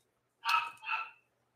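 A dog gives two quick barks close by, the second slightly softer than the first, followed by quiet.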